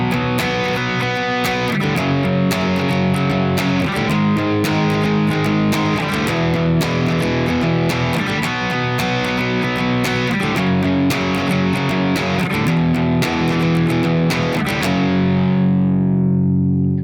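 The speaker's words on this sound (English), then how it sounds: "The first chorus rhythm will sound like this." Distorted electric guitar chugging a chorus rhythm of power chords on the fifth and sixth strings for a rock song, loud and steady with regular strummed hits throughout, ringing out at the end.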